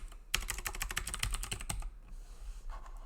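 Rapid typing on a computer keyboard while entering data into an Excel spreadsheet: a quick, close run of clacking keystrokes lasting under two seconds, then a quieter background hum.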